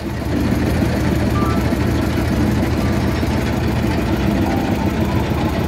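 A trawler boat's engine chugs steadily along a muddy Sundarbans canal at dawn, a loud, close, even low-pitched drone with a fast rhythmic throb throughout.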